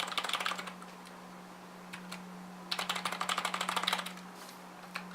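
Bursts of rapid typing on a Lexma LX 6000 budget keyboard, two clusters of dense clicky keystrokes separated by a pause, close and fairly quiet over a steady low electrical hum.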